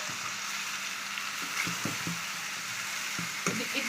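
Chicken being stirred in a pan with coconut powder and masala spices for chicken pulusu, giving a steady soft sizzle with a few scraping stir sounds, no talking.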